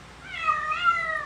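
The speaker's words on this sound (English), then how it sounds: "Sorry, that's my cat." A domestic cat gives a single drawn-out meow, close and fairly loud, rising and then falling over about a second against a quiet room.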